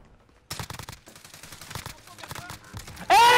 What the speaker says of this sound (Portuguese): Quem tá dando tiro aí, amigo?